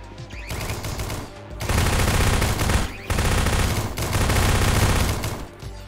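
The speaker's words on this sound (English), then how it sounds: "Why are you shooting at me?" Gunfire in a Roblox game modeled on Garry's Mod rattles out in long, loud automatic bursts, two sustained volleys separated by brief pauses.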